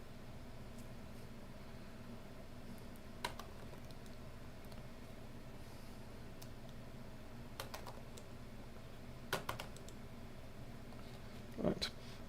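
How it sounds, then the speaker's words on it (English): Light key clicks from a MacBook A1708 keyboard during a keyboard test, faint and sparse: a few scattered taps over a steady background hum, with a small cluster near the end. "we're just testing the keyboard here"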